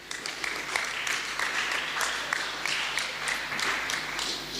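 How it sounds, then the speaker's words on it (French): A church congregation claps and cheers during a Sunday service, a broad wash of applause with scattered sharp hand claps that holds steady for several seconds. "Une acclamation pour notre Dieu."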